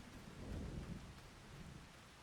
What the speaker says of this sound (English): Good, nice rainy day. Cool weather, rain.